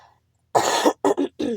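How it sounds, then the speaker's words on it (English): A few sharp coughs close to the microphone, one longer cough followed by three short bursts in quick succession. "I'm sorry, excuse me for the coughs."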